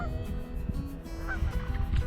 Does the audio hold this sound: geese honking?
yes